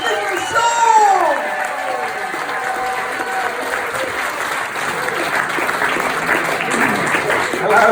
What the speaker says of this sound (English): Can you start to clap? Can you start to cheer?